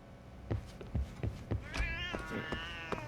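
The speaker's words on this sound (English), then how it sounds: "Hey, cat, shut up." A cat in the video game Lost Judgement meows several times in short, close calls, with a drawn-out wavering meow near the end and soft thumps underneath.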